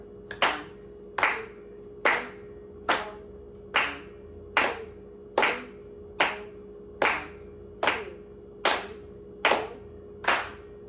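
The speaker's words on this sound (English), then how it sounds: "we're going to clap together" Students in a fifth-grade string orchestra clap together in a steady even rhythm, about twelve sharp, evenly spaced claps ringing against a faint background hum.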